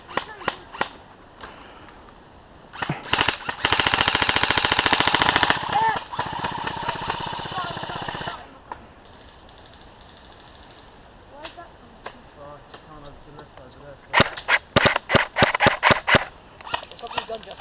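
Airsoft guns, including M4-style rifles and a pistol, fire in rapid bursts at an outdoor skirmish site, with a long sustained volley near the start and sharp popping shots clustered later, loud and close amid brief talk.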